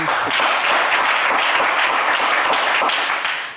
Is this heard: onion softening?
no